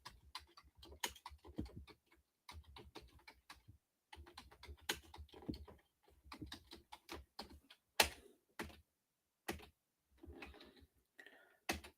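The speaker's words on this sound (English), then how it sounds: "me typing stuff into like the command line" Typing on a computer keyboard into a command line, clusters of quick key clicks in bursts with short pauses between them, close and fairly quiet.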